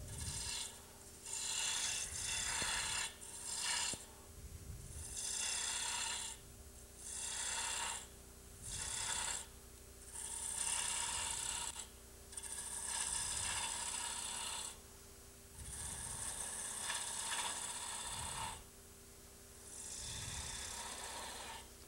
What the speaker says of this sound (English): here's where the roughing gouge comes back out.